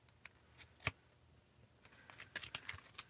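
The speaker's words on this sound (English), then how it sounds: "This is one of those decks that's hard to shuffle because these cards are so huge." Large oracle cards being shuffled: soft, quiet clicks and light papery taps scattered irregularly, one sharper snap early on, then a flurry of small card-like clatters near the end.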